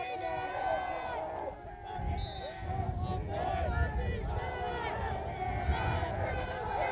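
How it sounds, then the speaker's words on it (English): Football players on the Delise team bench yelling to cheer on their defense: a dense wall of shouting voices and crowd babble that holds throughout at moderate distance. "So the Delise bench getting loud, trying to cheer their defense on."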